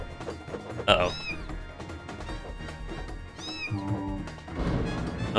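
Angry kitten in an indie video game meowing loudly in two sharp, rising cries, with game sounds and a person talking over it.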